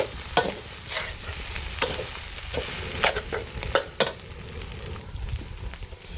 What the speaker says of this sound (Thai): ผัดแห้งๆนะทุกคน ไม่ถนัดเลยมือเดียว